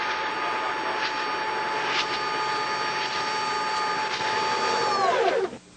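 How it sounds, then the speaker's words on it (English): A motorised gate hoist runs during an operational test, giving a steady mechanical whine with a high tonal hum that holds evenly for several seconds, then winds down and stops near the end. "Now test the operation of the gate."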